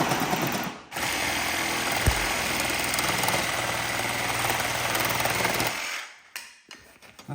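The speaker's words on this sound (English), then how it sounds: "we're gonna try and Sawzall them off." A reciprocating saw cuts the molded plastic feet off the bottom of a bee barn, giving a loud, steady buzzing rasp close by for about five seconds before the blade stops and a few clunks follow.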